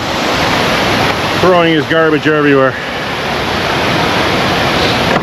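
Steady broadband rush of waterfalls along Mimico Creek runs through the whole scene, loud and continuous, with someone briefly speaking over it in the middle.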